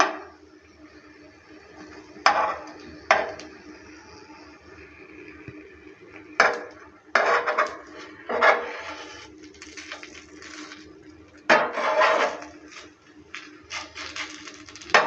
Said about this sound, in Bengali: নারকেলের পুরটা দেওয়ার পর এভাবে করে একটু উল্টে দিচ্ছে